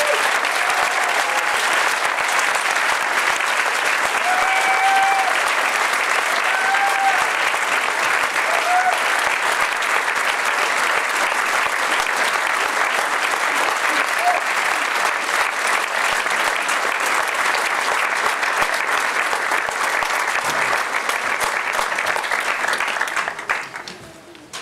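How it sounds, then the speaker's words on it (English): Audience at a 2022 Hazen Union high school graduation ceremony applauding in a steady, dense wash of clapping for about 25 seconds, with scattered cheers and voices mixed in before it fades at the end. "let's turn the cheering towards him"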